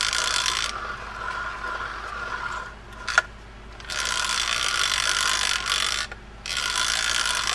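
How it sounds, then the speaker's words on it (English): A serviced Penn Master 260 three-ball-bearing fishing reel is cranked by hand, giving a rapid, steady ratchet clicking in long bursts with two short pauses, close and loud with no voices. "That is your Master 260 by Penn 3-ball bearing reel."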